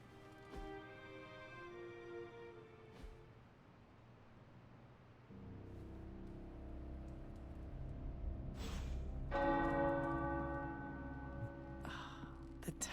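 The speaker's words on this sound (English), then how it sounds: "The tower bells are ringing." Tower church bells ring within the video game Marvel's Midnight Suns, with tonal, resonant strikes that hum and decay over a low background drone. They are quiet overall, with a brighter, louder peal late on.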